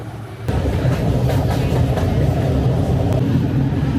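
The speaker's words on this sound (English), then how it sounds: "I got a cool train, not one of the boring ones" Train in Budapest rumbling steadily close by, a broad low continuous roll with faint murmur of people around it.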